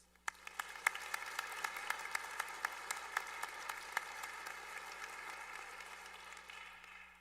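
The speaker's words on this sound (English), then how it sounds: "Please join me in one last round of applause for all of our award recipients" A final round of audience applause for award recipients at a college of pharmacy convocation, building quickly into sustained clapping from a sizable crowd with sharp individual claps standing out, over a steady low hum.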